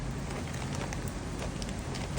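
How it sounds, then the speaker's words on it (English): Steady rain falls outdoors with a dense, even hiss of drops hitting surfaces, continuous and fairly close with no talking. "Oh, here comes the rain."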